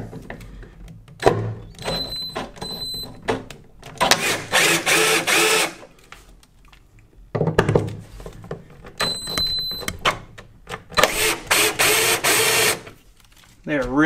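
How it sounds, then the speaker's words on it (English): T30 Torx screws are driven out of a Rough Country tonneau bed cover on a Toyota Tacoma. Two long, loud whirring bursts from a driver come a few seconds apart, with lighter mechanical clicks and knocks between them, all close. "These right here are T30 Torx screws. There are five of them to take off to pull this up and out."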